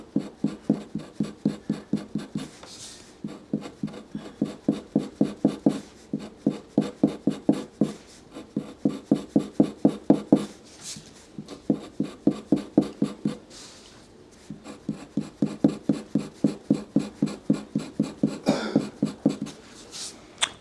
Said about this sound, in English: So we're just going to get rid of the bulk of the backing, and we'll leave a little thin layer there.